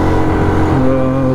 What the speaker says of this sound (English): Right, now the bike started to struggle.